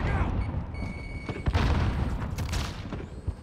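A frag grenade explodes amid gunfire in the video game Warzone: a sharp boom and a few bursts of shots stand out over a busy, noisy game soundtrack.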